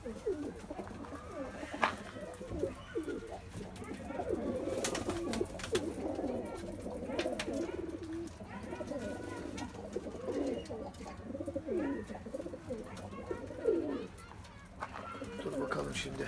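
A homing pigeon crossbreed coos softly inside a coop, its low rolling calls repeating among other pigeons, with someone talking nearby and faint rustling in the background.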